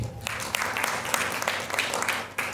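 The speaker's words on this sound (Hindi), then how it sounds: "बताइए, ताली बजाइए" An audience at a Holy Week sermon claps in a dense burst of applause that carries steadily for a few seconds, close and lively.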